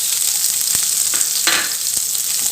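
Small onions sauté in hot oil with mustard seeds in a continuous loud, close sizzle, with a few sharp stirring clacks and spatters.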